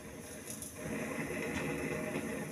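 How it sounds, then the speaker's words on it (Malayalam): A kitchen gas stove makes a loud, steady rushing hiss that grows stronger after the first second and then holds at an even level. "ഗ്യാസിന് എന്താണ് ഭയങ്കര സൗണ്ട്"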